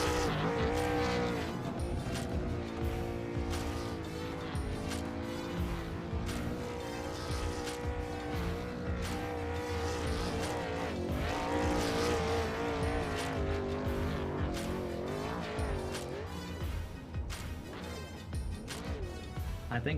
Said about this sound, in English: He had enough fuel to do some donuts.